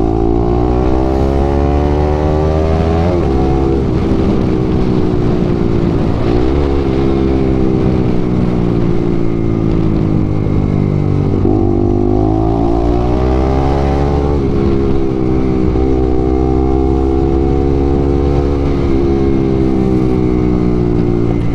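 A Bajaj Pulsar NS200 motorcycle is ridden at full throttle, its engine roaring loudly and continuously, with pitch rising and falling through several gear changes over wind noise.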